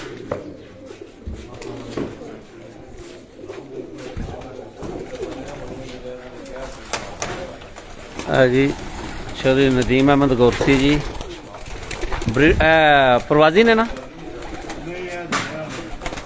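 Pigeons coo at a breeder's loft, their soft rolling calls rising in several clusters mid-clip while someone talks over them.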